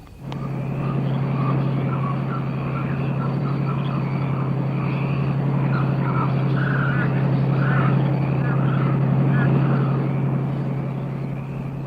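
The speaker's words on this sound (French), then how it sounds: "J'entends le moteur. Ils arrivent." Engine of an approaching vehicle, a steady low mechanical drone holding under muffled voices and incidental sounds throughout.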